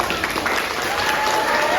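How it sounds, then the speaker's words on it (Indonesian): An audience applauds after a student theatre performance in a university campus corridor. The clapping is brief and moderately loud, with talking mixed in throughout. "Wow, beri tepuk tangan dong."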